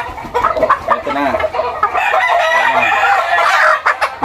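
Chickens cluck loudly and close up, and a rooster crows in a drawn-out call amid busy farmyard clucking, during gamefowl conditioning with a hen.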